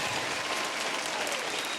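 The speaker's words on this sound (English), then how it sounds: "Where's my fucking applause?" A canned applause effect fired from a podcast soundboard: a short, dense burst of crowd clapping and cheering that fills the clip evenly at moderate volume, with no talking over it.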